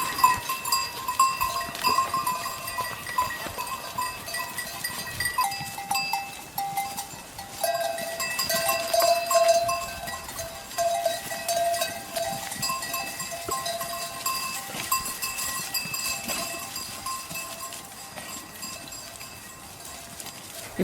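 A herd of goats of Candelon moving with bells and clip-clopping hooves, many small bells tinkling and clanking continuously and fairly close, with a donkey among them and occasional faint voices.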